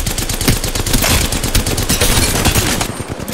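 Rapid automatic gunfire from the Apex Legends video game rattles loud and dense throughout, a continuous burst of close shots that thins out at the very end.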